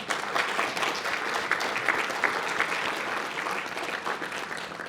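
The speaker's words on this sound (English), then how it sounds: "can I invite a round of applause for Sarah?" A conference symposium audience claps in a sustained round of applause, fairly soft and even, many hands blending into a continuous patter with no talking.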